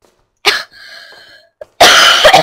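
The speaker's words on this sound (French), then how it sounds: "Oh mon dieu, j'ai envie de tousser." A person coughs sharply once, then a brief throat sound and a short breath follow, ending in a longer, forceful burst of coughing close to the mic while playing a Slender horror game.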